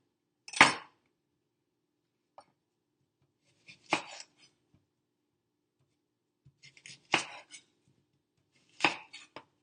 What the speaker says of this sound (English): so I will chop it into smaller pieces